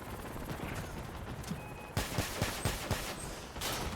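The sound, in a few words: gunfire in the video game Crossout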